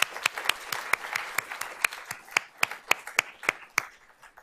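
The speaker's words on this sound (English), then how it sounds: "let's give them a round of applause for you." A small audience applauds, with sharp individual claps standing out in an uneven rhythm that thins and tapers toward the end.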